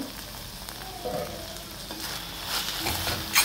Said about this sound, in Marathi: आता आपण भाजी छान हलवून देऊ